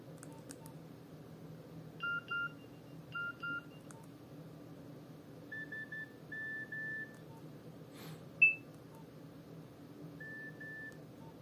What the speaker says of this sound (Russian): Звуки клавиш.